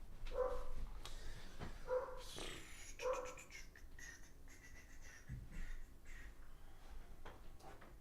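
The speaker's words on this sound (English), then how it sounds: "Hold on, my dog's going crazy." A dog barks excitedly indoors in the background, several sharp barks spaced about a second apart near the start, followed by scattered thumps and household noise, moderately faint.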